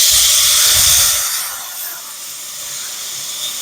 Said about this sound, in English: let's go in with our first steak and sear this bad boy up